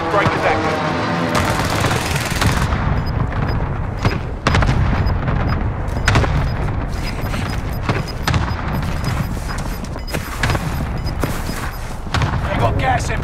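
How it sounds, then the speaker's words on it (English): Rapid booms and crackling blasts from a cluster strike airstrike in the Call of Duty Warzone video game, a dense loud barrage of explosions and gunfire rolling on continuously, with occasional game voice announcements. "Cluster strike is active."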